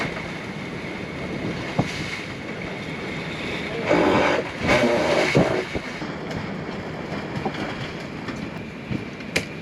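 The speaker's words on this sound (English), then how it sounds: "the water level has risen and it is just getting smacked with waves" During Hurricane Ernesto, waves and swell slap against moored boats, with a constant rushing wash broken by heavier surging splashes and scattered knocks against the hulls.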